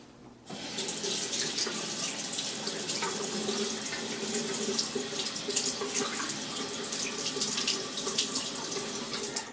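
Water runs steadily from a bathroom tap while a face is rinsed during a wet shave, a continuous splashing hiss that starts abruptly and stays close and moderately loud.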